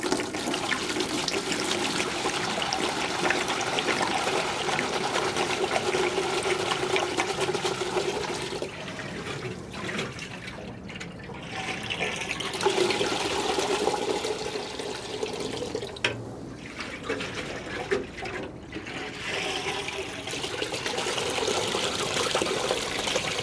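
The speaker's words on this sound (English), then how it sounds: "I'm going to pour out all the vinegar and see how filthy that is" Vinegar pours out of a motorcycle fuel tank in a steady, splashing gush of liquid into a pail, easing off briefly twice before flowing again, close and continuous.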